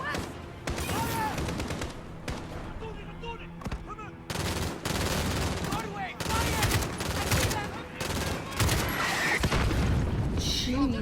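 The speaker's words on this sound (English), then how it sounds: "Mortars! Alex, take them out!" Gunfire and mortar blasts pound through a Call of Duty: Modern Warfare battle, repeated heavy booms and rattling bursts arriving in dense loud clusters with short gaps, while voices shout now and then over the combat.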